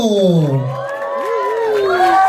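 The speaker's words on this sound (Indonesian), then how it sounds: "Berikan tepuk tangan untuk Acil Dito." Press conference audience for the film Believe cheering and whooping as cast members are welcomed onstage, loud shouts and cheers filling the room throughout with a voice running over the crowd noise.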